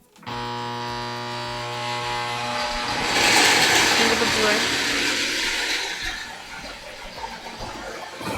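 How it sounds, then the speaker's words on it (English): A blender purees mixed berries on low speed, its motor humming steadily and close from start to finish while the blade churns the fruit, rising slightly in intensity midway. "Then you're gonna blend this on low. You just want it to turn into a puree."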